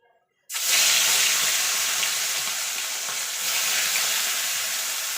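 Rohu fish pieces dropped into hot oil in a wok set up a loud, steady sizzle after a brief silent moment, crackling continuously close by with no voices.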